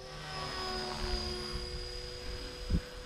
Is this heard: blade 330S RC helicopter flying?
yes